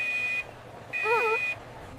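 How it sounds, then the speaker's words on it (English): A fire alarm gives two loud, steady electronic beeps, each about half a second long, with a short break between them. A tonal voice-like sound runs under the second beep, and people speak nearby. "Fire alarm! Fire alarm! Please leave the building."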